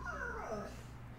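A dog whimpers and yips in a short, plaintive run of high, wavering cries, close and fairly loud, with no speech over it.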